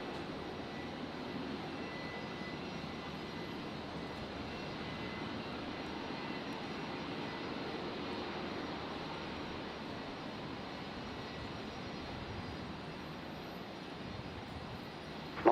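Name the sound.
aircraft on runway at Brisbane airport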